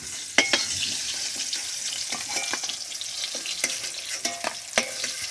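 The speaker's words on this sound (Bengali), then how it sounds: "পরিমাণ মতো নুন আর হলুদ দিয়ে আমি হালকা ভেজে নেব" Paneer frying lightly in oil with salt and turmeric gives a steady, close sizzle, broken by sharp clicks and scrapes from stirring, with no talking.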